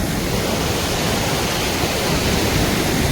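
A mountain river in the Himalayas rushing nearby, a loud, unbroken roar of churning water that holds steady from start to end.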